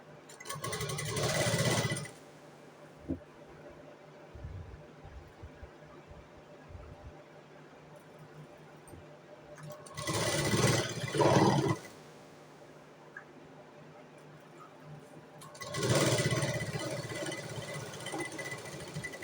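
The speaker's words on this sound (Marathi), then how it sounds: "मी सिंगल सिलाई मारलेली आहे। आता याच्यावरती परत मी डबल सिलाई करून घेणार आहे।" A sewing machine runs over stacked fabric layers, stitching a box-type cross strip, in three loud bursts of steady whirring separated by quieter pauses with small handling clicks.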